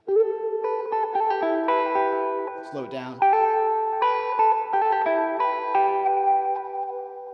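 Electric guitar chords ring out with a washy, echoing reverb tail, a brief sliding note in the middle, and someone speaking briefly over it.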